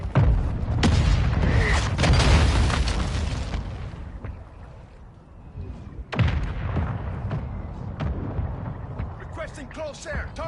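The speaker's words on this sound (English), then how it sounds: "Mortar strike on the way!" Mortar strike explosions in a video game land as heavy rumbling booms, a cluster at first, then fading, followed by a second sharp blast and smaller pops.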